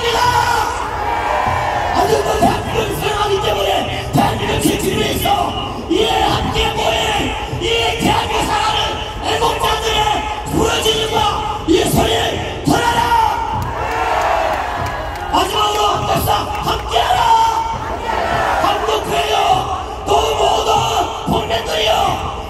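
A large crowd at an August 15 outdoor rally in Korea shouts and cheers continuously, with loud massed voices, rhythmic chanting and bursts of whoops, while an amplified speaker's voice cuts through the din.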